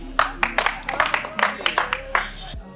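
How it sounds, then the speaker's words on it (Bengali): A small group clapping at a gathering, about a dozen close, uneven hand claps over roughly two seconds with some voices mixed in. "একটা তালি হয়ে যাক।"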